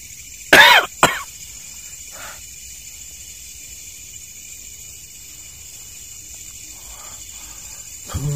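Two harsh coughs come close together, triggered by a strong smell, followed by a faint throat noise against a steady background of insects chirping at night.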